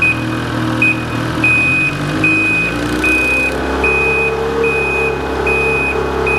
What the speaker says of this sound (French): Nous laissons la motoneige s'arrêter d'elle-même.